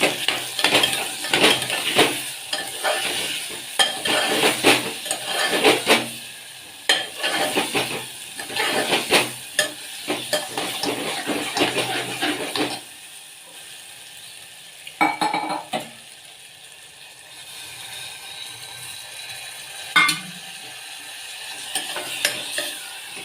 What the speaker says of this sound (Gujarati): શાકનો વઘાર કરી નાખશું